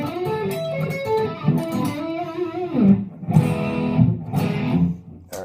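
Epiphone Les Paul Ultra electric guitar with vintage-style wiring and PAF pickups, tone knob fully up, playing a run of bright sustained notes and chords with a brief pause, loud and close with no talk.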